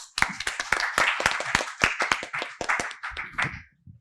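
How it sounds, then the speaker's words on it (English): A small audience at a business school event gives a short round of applause for a speaker being introduced, with distinct individual claps close by, loud at first and then tapering off. "Please welcome him with a round of applause"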